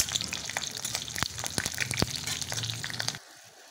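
Green chilies tossed in a pan with rooster meat, frying and sizzling as a spoon knocks and scrapes with a few sharp clacks, close by, before the sound cuts off abruptly near the end.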